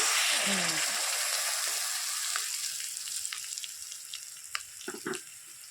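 A ground spice masala paste being fried in a pan gives a bright sizzle at first that gradually fades into quieter spitting and a few light clatters of stirring.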